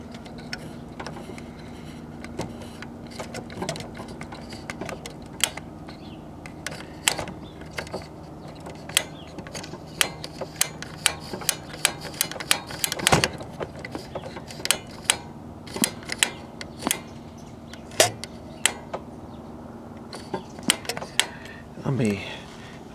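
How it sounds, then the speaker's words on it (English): A faulty power switch with crusty wiring on a USSR-made VEF Spidola 10 transistor radio crackles and pops in irregular sharp bursts over a steady low hum, fairly close. "So it appears we have a bad power switch."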